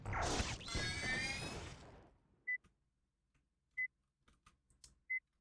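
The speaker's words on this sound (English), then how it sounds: "If I hold it, we're gonna hear the beeping the whole time." Repeated short electronic beeps from holding a charge shot in Marathon 2, three evenly spaced tones standing out after a burst of loud weapon noise, with faint clicks between them.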